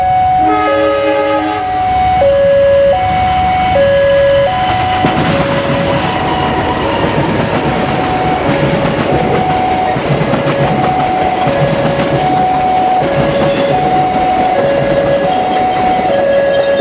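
KA Penataran passenger train on the Blitar to Surabaya Kota route, hauled by a CC 03 locomotive, sounds repeated horn blasts over a loud, close rolling rumble and wheel clatter.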